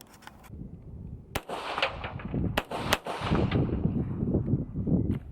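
A Hi-Point JCP .40 pistol fires a few sharp shots, widely spaced and quite close, each crack cutting through a steady background of rumbling outdoor noise.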